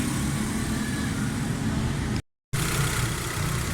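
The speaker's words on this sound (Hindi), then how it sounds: "ये गाड़ी स्टार्ट है, बिल्कुल ज़बरदस्त साउंड। ये 1300 सीसी बलिनो का इंजन है" A 1300cc Baleno engine fitted in a 2012 Suzuki Cultus runs steadily with a low, constant rumble, briefly cut to silence partway through before resuming at the same level; the engine has a missing fault.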